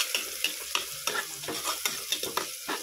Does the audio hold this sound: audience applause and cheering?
no